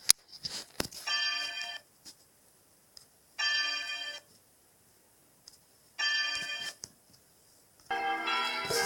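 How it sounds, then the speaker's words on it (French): Chapel bells ring for the end of mass at a church inauguration, bright metallic peals arriving in separate bursts of about a second each, spaced by quiet gaps, with a few sharp knocks at the start. "les cloches 1, 2, 3, 4 de la chapelle sonnent pour la fin de messe"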